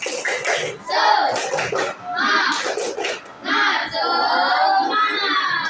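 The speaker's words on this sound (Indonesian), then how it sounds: "tepuk semangat" A primary-school class doing a rhythmic spirit clap: children's chanting voices in bursts, punctuated by sharp group claps in a steady pattern, close and loud.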